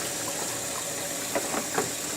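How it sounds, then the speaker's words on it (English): Warm water running into the tank of a Hoover Power Scrub Elite Pet carpet cleaner, a steady indoor rush of tap water with a few brighter splashes near the end, close and alone. "So I'm filling this thing up with water right now."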